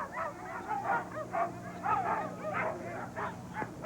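A team of 15 sled dogs waits at the start of the Iditarod ceremonial opening in Anchorage, Alaska, giving repeated excited barks, yips and whimpers, fairly close, over a low crowd murmur.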